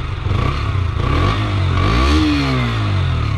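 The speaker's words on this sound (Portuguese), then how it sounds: "Bué de caladinha esta moto." A 2021 Husqvarna Svartpilen 125 motorcycle engine runs steadily up close, a low, even drone with a rising pitch sweep midway as it revs, no voices over it.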